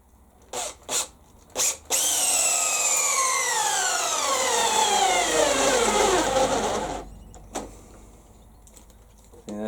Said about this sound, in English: First up, just the drill driver.